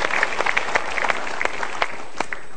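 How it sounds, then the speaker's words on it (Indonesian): A studio audience at an Indonesian motivational talk show applauds: a dense, continuous patter of many hands at moderate loudness, with no voices on top. "Kita berikan tepuk tangan."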